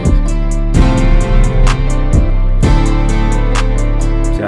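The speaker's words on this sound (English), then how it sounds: "You add the reverb, it's gonna sound like this." Synth melody from a beat-making session with a stock reverb effect applied, a sustained bright chord-like line with repeating high percussive hits, giving a wide, washed, fuller tone, loud and steady throughout with no talking.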